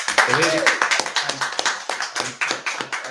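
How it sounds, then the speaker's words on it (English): A big round of applause at a GAA bingo night in a hall, a crowd clapping steadily across the whole stretch, close and lively, with a voice talking over it. "Colum Cox needs a big round of applause"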